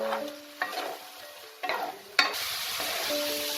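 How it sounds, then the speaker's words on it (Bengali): Pumpkin curry with ground spices stir-fried in a pan, with a steady sizzle broken by a few distinct scraping stirs of the spatula. The sound is close and moderate, with no talking. "এবার আমি ভালো করে এগুলো সব মশলার সাথে কষিয়ে নেব।"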